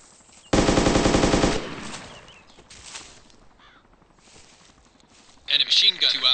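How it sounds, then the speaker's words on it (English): A loud, close burst of machine gun fire in ArmA 2 rattles for about a second, followed by quieter distant shots, then another sharp volley near the end. "Machine gun. 2 hours. Left flank. Far."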